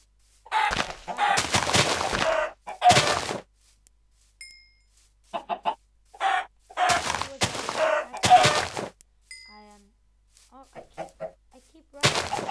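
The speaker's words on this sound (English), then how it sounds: "There are so many chickens." Blocky chickens in a Minecraft game with the Fossils and Archeology mod cluck and squawk in repeated loud bursts separated by short silences, with faint game effects between.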